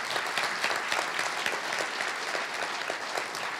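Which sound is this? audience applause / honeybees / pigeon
audience applause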